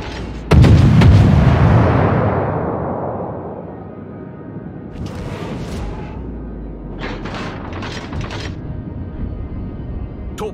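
A destroyer blows up in a naval video game, a loud booming blast that rumbles and slowly fades, with scattered gunfire bursts and distant bangs following.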